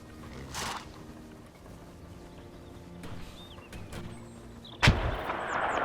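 Distant booms of artillery cannon fire in the World War I video game Between Empires thud at intervals, with one sharp, louder blast near the end amid a low background rumble.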